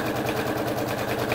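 Sewing machine stitching a prairie point border onto a bow tie quilt top, a steady, fast, close mechanical whir with even needle pulses running throughout.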